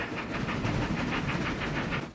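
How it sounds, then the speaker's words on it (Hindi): A cartoon diesel train runs on rails with a steady, rhythmic clickety-clack that repeats close by and holds at an even loudness throughout, with no voices. "टीटीपो, सामने एक रेल है, इसलिए थोड़ा धीरे चलो।"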